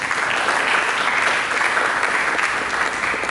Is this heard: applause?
yes